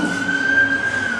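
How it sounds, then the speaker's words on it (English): Emergency vehicle siren passing outside, a loud sustained wail holding a steady tone for the whole moment, with no talk over it. "Sorry for the siren, guys."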